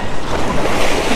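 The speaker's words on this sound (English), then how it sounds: "Watch the wave, watch the wave." Ocean surf pounds a Hawaiian rocky shoreline during ulua fishing. The wash roars loud and steady, broken by gusts of wind buffeting the microphone.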